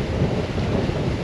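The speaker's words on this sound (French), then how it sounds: "On a un vent entre 20 et 25 nœuds" Strong wind of about 20 to 25 knots buffets a sailboat at sea off northern Saint Lucia, a loud, steady roar of gusts and wind noise on the microphone, mixed with the wash of waves.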